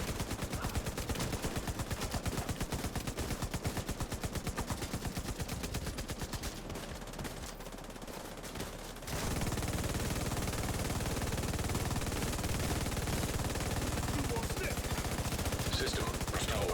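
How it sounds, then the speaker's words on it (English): Continuous automatic gunfire in a video game, a dense rapid rattle of shots that briefly thins, then resumes as a steady, loud, close-up barrage. "I just want to be constantly firing, even if I'm wasting rounds, that's fine."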